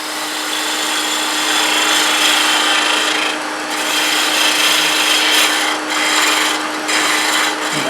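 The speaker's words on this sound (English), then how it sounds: "Now I'm going back to my detail gouge." Wood turning on a lathe with a detail gouge cleaning up a rough spot on a turned box: a steady, loud, continuous scraping rasp over a constant motor hum, with brief dips as the tool lifts.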